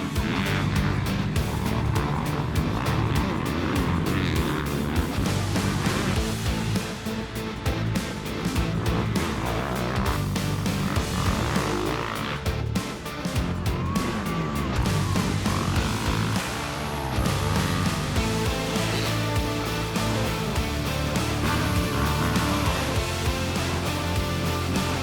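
Pro motocross bikes launch together off the starting line at Pea Ridge in a dense, loud roar of revving two-stroke and four-stroke engines. The sound swells and wavers as the pack accelerates away, with no talking.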